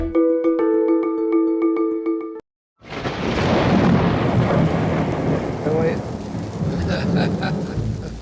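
Thunder and rain arrive after a short musical jingle and a brief silence, a loud rumbling storm with steady rainfall filling the rest of the clip.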